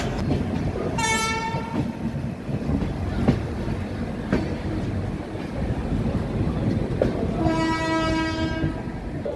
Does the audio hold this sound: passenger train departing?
yes